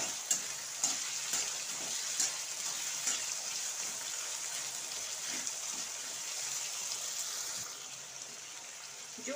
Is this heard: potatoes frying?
yes